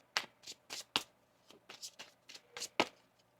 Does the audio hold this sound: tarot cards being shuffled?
yes